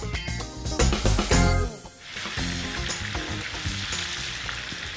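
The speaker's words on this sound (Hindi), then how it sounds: "सिर्फ चिकन को ऑयल में डाल के हम फ्राई करने रखते हैं" Marinated chicken frying in hot oil for balti murgh fry, with a loud, dense crackling sizzle that bursts up strongly at first, then settles into a steady frying hiss.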